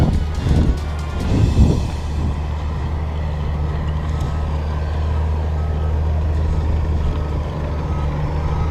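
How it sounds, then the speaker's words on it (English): A sugar cane harvester works a field near Bowling Green Bay National Park in Australia, a loud, steady diesel engine drone with deep rumbling tones, plus wind buffeting the microphone and a few louder thumps early on. "That's your harvester."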